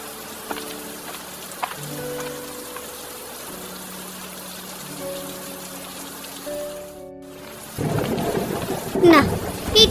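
Rain and thunder in an animated cartoon, heard behind a tonal melody; the downpour swells loud and close in the final seconds with rumbling.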